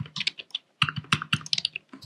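Close, crisp keystrokes on a computer keyboard tap out a quick run of clicks in two short bursts with a brief pause between.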